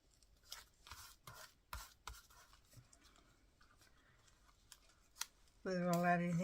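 Scissors snip a paper flower out of a sheet for a gluebook with a few faint, scattered cuts and rustles, close by and quiet, before a loud voice suddenly cuts in at the end.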